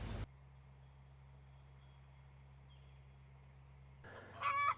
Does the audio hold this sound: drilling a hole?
no